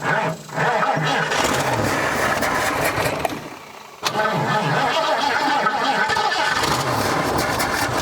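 A 1971 Ford Mustang, abandoned for 25 years, cranks over with a loud steady churning starter rhythm, pausing once briefly before cranking again, up close without catching.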